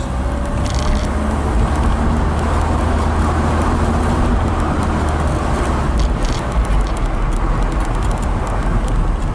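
Opel Manta GSI 1986 sports car with 90,000 km, engine revved during a road test, a loud steady broadband engine roar with low rumble throughout, no voices.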